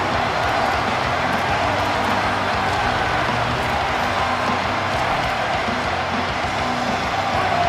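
Stadium crowd noise from a College Football 27 video game, LSU at Auburn, a dense, steady roar of cheering fans that holds loud and continuous throughout with no commentary over it.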